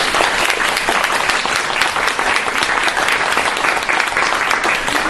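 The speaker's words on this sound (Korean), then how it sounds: "여러분 박수 다시 한번." Dense, sustained applause from an audience at a monthly forum featuring a conversation with a painter, loud and even throughout with no pauses or voices standing out.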